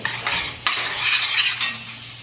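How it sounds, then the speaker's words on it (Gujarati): Spicy masala with garlic chilli, salt, coriander-cumin powder and jaggery is stirred in a hot pan for dahi tikhari, with close scraping strokes over a loud, steady sizzle and no voices. "સારી રીતે બધું હલાવી લઈએ।"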